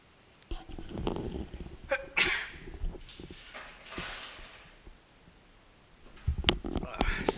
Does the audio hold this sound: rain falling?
no